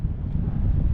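Steady wind buffets the microphone on a cold, sunny morning at the Old Cannery Wharf in Eden, a continuous low rumbling gust with no talk.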